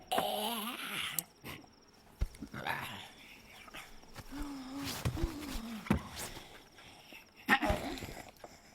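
A dog barks and whines in short, irregular bursts at night, close by and fairly loud, with crickets chirping steadily underneath and some shuffling movement.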